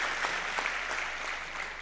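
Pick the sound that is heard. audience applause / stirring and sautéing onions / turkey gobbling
audience applause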